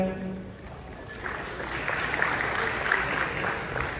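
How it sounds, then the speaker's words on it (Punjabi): A crowd at a Punjab state teacher award ceremony applauds, a soft wash of clapping that builds after a moment of speech and holds steady, somewhat distant. "ਜ਼ੋਰਦਾਰ ਤਾੜੀਆਂ"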